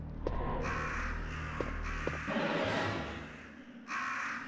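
Crows caw repeatedly in a Resident Evil video game, several harsh calls spread through the clip over a steady low ambient hum, moderately quiet and with no voices.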